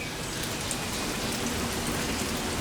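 Heavy rain pours steadily onto camping tents during a flooding downpour, a dense continuous hiss of drops drumming on fabric, close and loud throughout with no voices.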